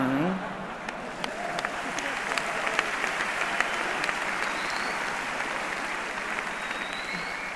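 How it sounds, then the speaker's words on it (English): Audience applause at a rally, a steady wash of clapping from a large crowd that holds evenly for several seconds, with a few louder claps standing out. "I didn't think anyone was going to applaud at that"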